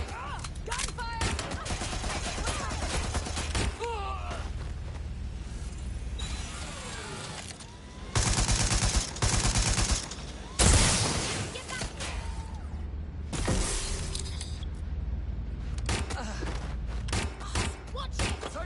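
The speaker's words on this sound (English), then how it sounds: "They're wounded! Gunfire!" Gunfire in the video game Watch Dogs Legion: dense bursts of shots and fusillades rattle through a busy combat scene, loud and near, with heavy thuds and mechanical clatter under shouted voices.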